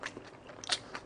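Chewing and biting on bossam, boiled pork slices, eaten with its accompanying seasoned kimchi, giving a few short crunchy, wet bites close to the mic, fairly quiet with no talking.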